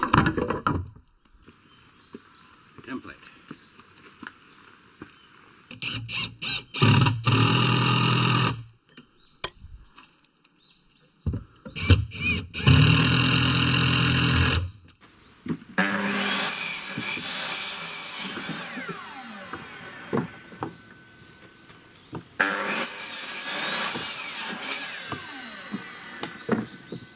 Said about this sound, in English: I'm cutting some spacer blocks, and they will go between the rafters that you see here.